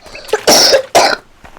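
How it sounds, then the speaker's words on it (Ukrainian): Two strong coughs in quick succession, close and loud, followed by a faint breath. "То чуть-чуть кашлю."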